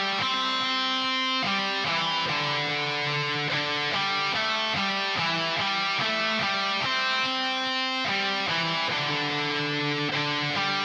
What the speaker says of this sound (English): So the lead guitar sounds like this.